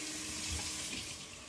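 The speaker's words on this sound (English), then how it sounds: "Okay, so I'm gonna rinse this." Kitchen tap running steadily as something is rinsed under it in a sink, a broad continuous splashing rush with no talk, recorded close and fairly loud.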